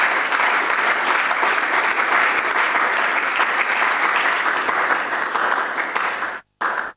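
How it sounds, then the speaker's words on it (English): Loud, dense applause from a studio audience on a Ghanaian TV business show, rolling steadily for about six seconds and then cutting out abruptly, followed by a brief final burst. "So a round of applause for Kwabena."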